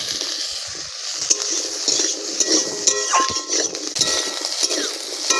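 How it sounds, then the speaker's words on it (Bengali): Capsicum frying in a pan for a Bengali egg masala curry, with clinks of utensils against the cookware and a steady sizzle running through the whole stretch. "ক্যাপসিকামটা আগে একটু ভেজে নেব"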